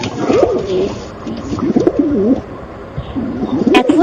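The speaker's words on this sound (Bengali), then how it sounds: "কি সুন্দর একটা পায়রা এসে কাকুন বিবির কবরের উপরে বসেছে" A pigeon perched on a grave gives repeated rolling coos in close, clear bursts, with short pauses between calls.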